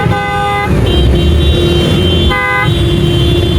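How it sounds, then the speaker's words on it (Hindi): Busy street traffic on the night of 14 August in Pakistan, with loud close car horns blaring in long steady toots, stopping and then sounding again over a dense rumble of engines. "अल्लाह इतनी गाड़ी आ गई है ना"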